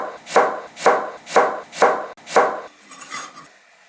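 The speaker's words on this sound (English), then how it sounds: "now let's cut this into matchstick" Knife chopping radish into matchstick strips on a cutting board for radish kimchi: five steady, evenly spaced chops, close and crisp, followed by softer scraping and rustling as the pieces shift.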